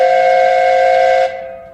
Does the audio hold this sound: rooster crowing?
no